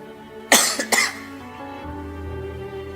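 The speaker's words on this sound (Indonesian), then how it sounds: "Sudah mulai tua, penyakitnya batuk." Two sharp, close coughs in quick succession, followed by a quiet low rumble of room noise.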